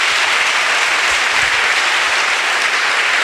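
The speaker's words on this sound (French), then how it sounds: "Clap for Jesus." Audience applause at a pastors' conference in Nzerekore, a steady, dense clapping from a large crowd that fills the whole short stretch at even loudness.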